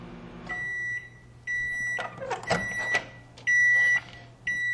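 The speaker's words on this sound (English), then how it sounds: "I'm going to continue to microwave in increments, 1-minute increments" A microwave oven heating nuts gives off a steady hum, broken by repeated pairs of bright electronic beeps, with clunks and rattles like the door opening and a dish being handled.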